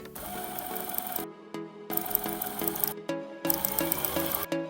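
A sewing machine stitches a folded one-inch hem along the bottom edge of a dress, running in three bursts of steady mechanical whirring and clatter separated by short pauses, close and fairly loud with no talk.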